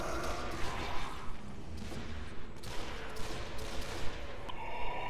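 Gunfire in the video game Nazi Zombie Army comes as a run of quick, punchy shots and bursts over a dense, noisy game soundscape, repeating irregularly at moderate loudness.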